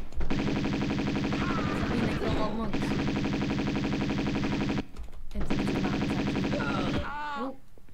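Automatic gunfire in Tomb Raider 2 at Barkhang Monastery, rattling in dense continuous bursts across the clip with a short break midway, with voices talking over it.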